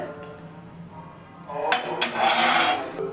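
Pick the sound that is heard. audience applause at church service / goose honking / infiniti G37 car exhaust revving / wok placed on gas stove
wok placed on gas stove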